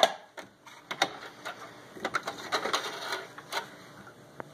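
A sewing machine stitches a test seam, a soft uneven run of rapid clicks and needle taps, fairly quiet and close, with no voice over it.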